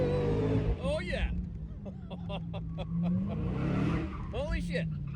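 A 797-horsepower sports car roars as it accelerates hard on a test drive, its engine note rising through sweeping revs and gear changes, with excited voices talking and shouting over it.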